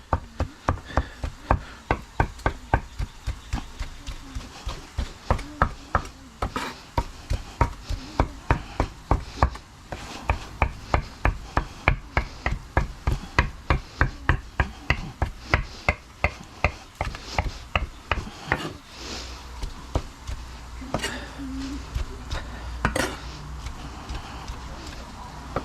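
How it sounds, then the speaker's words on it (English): Food is chopped on a board with a knife in a long run of quick, evenly spaced close thuds, slowing and fading toward the end. "back to chopping."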